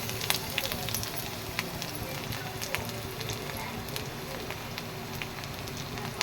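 Garlic and ginger fry in hot oil, giving a constant close sizzle peppered with sharp irregular crackles and pops that carry on throughout.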